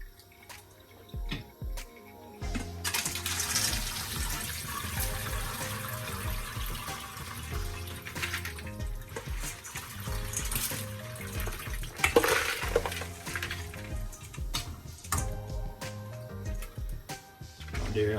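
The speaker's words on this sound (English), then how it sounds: "Make sure you rinse off your sorrel before you start to throw them inside your pot." Running tap water splashes over sorrel (hibiscus) being rinsed in the kitchen, a continuous close hiss with uneven sputters and drips as the petals are handled, fairly loud throughout.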